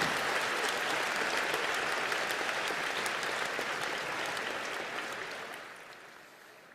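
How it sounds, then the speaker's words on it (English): A crowd at a business school graduation celebration applauds loudly in a dense, continuous roar of clapping that gradually fades over the last couple of seconds. "hear the noise of the crowd"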